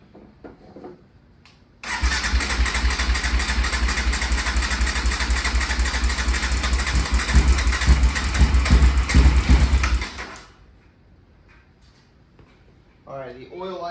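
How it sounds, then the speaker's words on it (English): A big bore quad engine is turned over on the starter for roughly eight seconds, a steady loud whirring crank that does not catch before stopping. Brief talk can be heard before and after. "Now I'm just going to turn it over, see if we can get some oil flowing, pumping."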